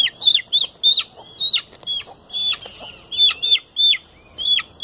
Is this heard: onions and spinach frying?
no